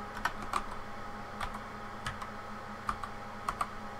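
Keys clatter on a computer keyboard as a single word is typed in Notepad++, with light irregular clicks in small bursts, close up and quiet, with no talking.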